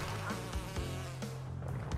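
Buzzing of a bee enemy in the video game Crash Bandicoot: Cortex Strikes Back, a steady insect drone with game music and effects throughout, no talking.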